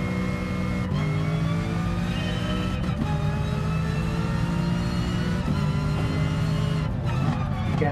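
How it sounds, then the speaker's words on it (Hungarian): An Aston Martin engine revving hard in Gran Turismo Sport, a loud continuous whine that climbs and drops as it shifts through gears, with no talk over it. "már hallom, hogy ez nagyon pörgős autó"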